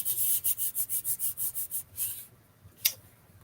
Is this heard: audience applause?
no